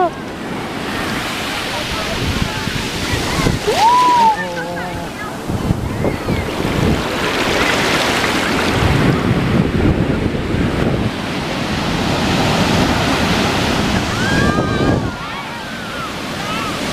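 Ocean waves wash onto a cold beach, a broad rolling roar that swells and recedes, heavily mixed with gusting wind buffeting the microphone and a faint voice in the background.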